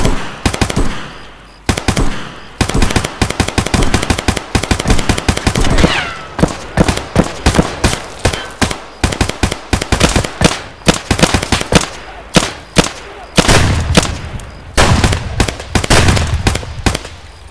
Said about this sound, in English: I think I got him with my shotgun